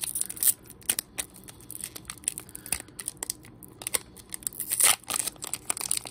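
A Pokémon card booster pack wrapper being torn open, with crisp foil tearing and crinkling in repeated sharp bursts, close and fairly quiet, the loudest rip near the end.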